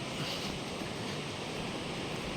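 The Pamba river at Triveni rushing past in a steady, dense roar of flowing water, continuous and unvarying, heard from near the bank with no voices.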